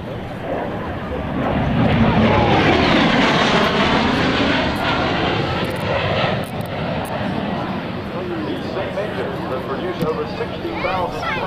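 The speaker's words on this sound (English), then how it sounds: "just watch and listen this time as the F-117 with its GF-404 engines comes by" An F-117 Nighthawk with GE F404 engines makes an airshow flyby, a loud broad jet roar that swells and holds steady with a wavering, phasing tone as it passes, with crowd and announcer voices underneath.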